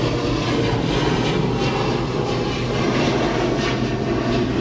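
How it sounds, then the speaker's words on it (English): A steady, broad roar of a propeller airplane engine droning overhead, loud and continuous throughout with no voices. "we have a plane going"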